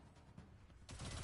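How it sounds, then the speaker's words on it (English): A submachine gun firing at normal speed in Destiny 2, a rapid burst of shots that grows denser and louder toward the end. "So this is the normal speed of a SMG."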